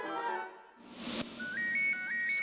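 A phone on speaker during a call rings with a short burst of noise, then a repeating pattern of bright, stepped electronic tones, fairly faint and alone.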